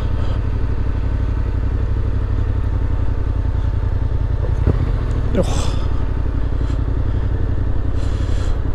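A Yamaha Tenere 700 motorcycle idles in Death Valley, a loud, steady low engine throb running the whole time, with brief clatter and scrape noises partway through and speech over it.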